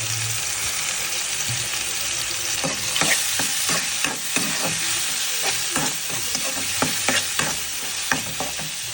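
Ground pork for giniling with carrots sizzling steadily in a pan while a utensil scrapes and stirs in irregular clacks, close and continuous, with no talking.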